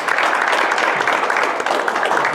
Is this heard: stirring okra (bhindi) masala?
no